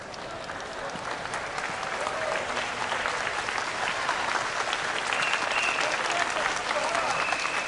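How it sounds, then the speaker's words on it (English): Sustained, steady crowd applause fills a college sports hall at a badminton women's singles final, a dense even wash of clapping that holds strong for the whole stretch. "Deserved applause from the crowd here at the Suffolk County Community College in Long Island, New York"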